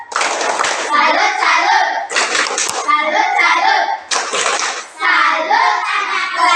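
A fifth-grade class chants together in loud unison, with rhythmic hand claps punctuating the voices in a few quick bursts, close and energetic.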